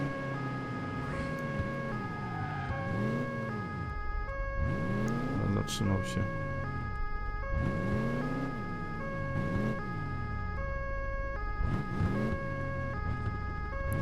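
An ambulance siren from the driving game Crash Time 3 wails in repeated rising and falling sweeps over steady engine and road noise, while someone talks briefly in the middle.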